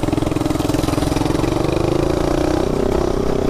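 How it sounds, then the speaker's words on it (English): A custom-built Canon minibike engine idles close by with a loud, steady, fast-pulsing putter that lifts slightly in pitch near the end. "This thing sounds so dope for a mini bike, you know."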